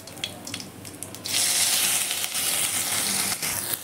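Ginger garlic paste dropped into a hot tadka of mustard seeds and cumin for palak dal, a few faint crackles and pops giving way to a sudden loud, continuous hissing sizzle that holds steady.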